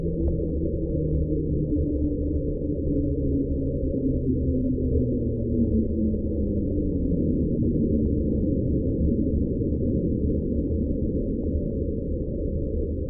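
Underwater recording sped up sixteen times, a low, continuous droning rumble with faint tonal sweeps gliding downward in pitch, steady and loud throughout with no voices.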